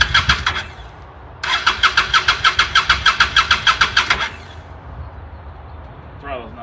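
A Honda Shadow motorcycle with a clogged fuel petcock cranks on choke, giving a loud, steady starter chug that runs for a few seconds and then cuts out, followed by a brief rising rev at the end.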